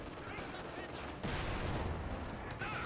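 Tank cannon fire from a Panzer IV and M4 in a video game battle, a dense burst of gunfire that grows louder and harsher after about a second, with a commentator talking over it.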